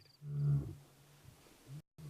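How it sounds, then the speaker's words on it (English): At night a lion roars once outside a lone tent at a campsite in the Namibian wilderness, a deep, fairly close, moderately loud rumble that fades into quiet. "Outside the only tent in 275 square miles of African wilderness, a lion is investigating this strange campsite."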